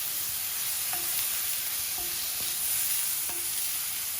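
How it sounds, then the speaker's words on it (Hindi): Onions frying in hot oil in a frying pan while cooking masala squid, giving a steady, close sizzle throughout with a few soft stirring taps from a utensil. "तेल गरम होने के बाद मैं प्याज डाल देता हूँ।"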